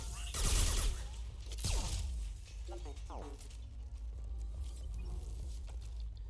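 Rifle gunfire in the video game Mass Effect 2: scattered bursts of shots and sharp impacts over a constant low rumble of game noise, moderately quiet, with a voice talking faintly underneath.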